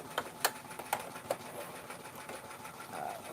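A sewing machine stitches a zigzag embroidery onto a kids jacket, a quiet continuous whir broken by a few sharp clicks and taps, close by with no talk.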